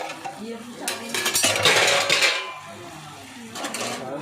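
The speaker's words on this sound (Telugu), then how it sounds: "ఒకసారి కలుపుకుందాం లేదంటే అడుగు వండుతుంది" A metal spoon stirs chicken curry in a pot, clinking and scraping against the sides in a busy burst that swells, then settles into lighter stirring.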